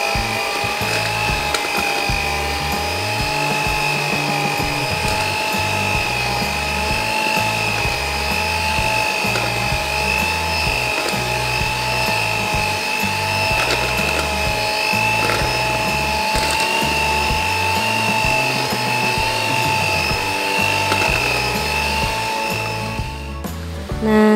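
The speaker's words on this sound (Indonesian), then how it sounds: "lalu kita mixer kembali sampai semua adonannya tercampur rata" Electric hand mixer running steadily as it beats nastar cheese cookie dough with egg yolks, a continuous whirring motor drone with a high whine, loud and close for the whole stretch with no talk.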